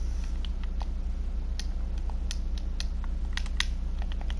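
Rain falls steadily in Minecraft, a soft even hiss of patter with scattered light ticks and taps, no voices.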